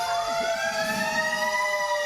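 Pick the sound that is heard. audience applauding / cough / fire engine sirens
fire engine sirens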